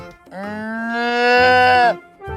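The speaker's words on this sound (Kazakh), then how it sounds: "Ол сиырдың төлі. Бұзау." A calf gives one long, drawn-out moo, loud and close, rising in the middle and then cutting off, with a brief low sound just after.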